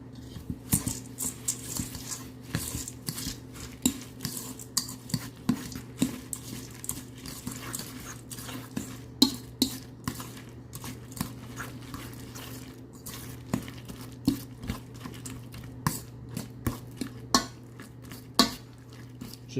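Banana cookie dough being mixed with rolled oats in a bowl: a steady run of soft scraping and clinking taps from a utensil against the bowl, close and fairly busy, with no talk.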